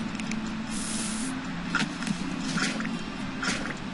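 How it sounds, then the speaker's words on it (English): Blue spray paint hisses in the Scribblenauts Unlimited video game as a steady, loud broadband spray with a few brief pulses, heard alone without talking. "Blue spray paint?"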